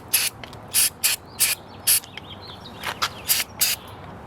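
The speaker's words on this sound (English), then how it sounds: "let's spray a little CARB cleaner in here." Carburetor cleaner is sprayed from an aerosol can into the carburetor of a surging Wen generator. Around eight short, close hissing bursts come in an uneven series over a faint background, with no talking.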